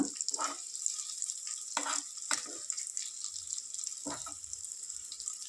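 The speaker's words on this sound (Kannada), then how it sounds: "ನೋಡಿ ಈ ರೀತಿ ತಿರುಗಿಸ್ಕೊಂಡು ಎರಡೂ ಕಡೆನೂ ಚೆನ್ನಾಗಿ ಫ್ರೈ ಮಾಡ್ಕೊಂಡು ಬಿಡಬೇಕು ಮೊಟ್ಟೆನ" Boiled eggs frying in masala in a pan for egg gravy: a faint, steady high sizzle broken by a few scraping turns of a spoon against the pan.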